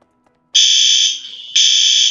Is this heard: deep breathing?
no